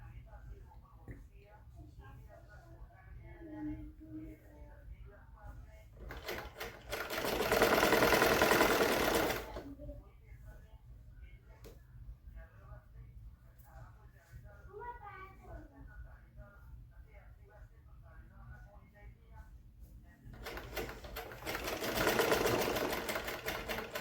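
A sewing machine stitches lace in two loud, fast whirring bursts separated by quieter stretches, while someone talks softly nearby between runs.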